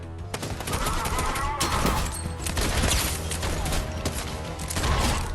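Rapid bursts of gunfire from headshots in the Fortnite video game, dense and loud, with overlapping shots and mechanical clatter continuing throughout.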